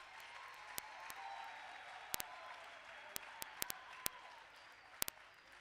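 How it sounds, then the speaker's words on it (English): Faint, steady applause from an audience at a community colleges infrastructure programme launch, a soft wash of clapping with a few sharper claps standing out. "Can you give them again a round of applause?"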